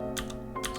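Fingers typing on a computer keyboard: a few quick, light key clicks in a short burst, close and quiet over a steady background hum.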